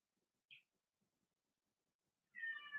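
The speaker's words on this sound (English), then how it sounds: "Do you hear Kitty?" A pet cat meowing indoors, one short faint mew followed a moment later by a longer, louder drawn-out meow, with quiet room noise between.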